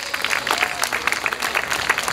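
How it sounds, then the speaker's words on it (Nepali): Audience at a beauty pageant claps steadily for about two seconds, a dense rolling wash of many hands with no pauses. "सो उहाँहरूले त्यहाँ सुन्ने गरी जोरदार ताली बजाइदिनुहोस्"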